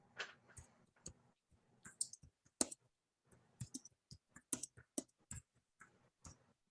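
Irregular, rapid clicking of computer keyboard keys being typed on, close and fairly quiet, in short clustered bursts with brief pauses and no talking.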